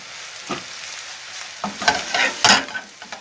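Onions with garam masala and paprika are stirred in a frying pan, a soft sizzle punctuated by several scraping strokes of a spoon that grow busier toward the end.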